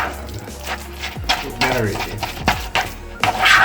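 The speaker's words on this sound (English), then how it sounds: "So give this a quick stir before we mash them together." A garlic butter mixture for baked lobster is stirred in a pot, with soft scraping and light clinks of the utensil against the metal over a few seconds, over background sound.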